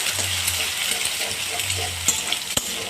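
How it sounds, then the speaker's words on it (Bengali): An egg fries in a pan with garlic paste, giving a steady close sizzle broken by stirring scrapes and a couple of sharp utensil clinks near the end; no speech. "ডিমটা এর সঙ্গে ভালো করে ভাজা ভাজা হয়ে যায়"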